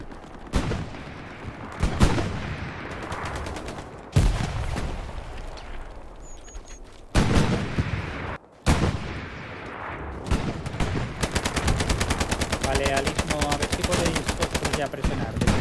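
Machine gun bursts in Hell Let Loose at El Alamein, close and loud: sharp stuttering strings of automatic fire broken by heavy booms and gaps, ending in a long rapid rattling burst, with voices talking over parts of it.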